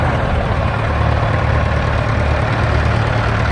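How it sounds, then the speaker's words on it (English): A 1957 Ferguson E1A Major tractor fitted with a V8 engine runs steadily at a vintage tractor parade at a steam rally, a loud, continuous low rumble with a dense roar and no pauses. "E1A Major with a V8 engine in, manufactured in 1957."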